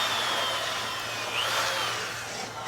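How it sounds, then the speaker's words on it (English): An electric drill running on an extension cord at a guest house construction site, where floor beams are being framed, whines steadily and fairly faintly at mid distance, with a brief pitch sweep partway through. "There is an electric drill"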